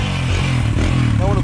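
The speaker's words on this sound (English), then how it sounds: "Yo, finally started up the dirt bike. Look at that. Listen to that" Honda XR100 dirt bike engine idles close by in the snow, a steady low rumble with light clatter, running the whole short stretch.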